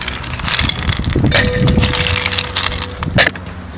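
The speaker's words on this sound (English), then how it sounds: "To make the drink, we're going to add some ice" Ice cubes tumbling into a glass for an elderflower vodka cooler cocktail, a loud close run of clinks and rattles with a couple of sharper knocks near the end.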